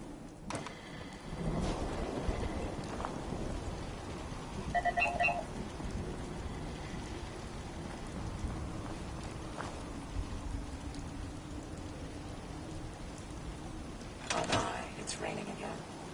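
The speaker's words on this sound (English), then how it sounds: "It's raining again." A steady hiss of rainfall in the video game Fallout 4 fills the scene, with a few soft knocks and a brief electronic chirp over the top.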